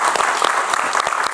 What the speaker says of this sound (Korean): 우리 안전국장님한테 박수 한번 보내주시기 바랍니다.